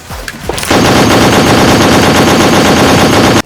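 A dense, continuous crackle of firecrackers bursts in after a few scattered pops, loud and rapid like a long string going off nearby.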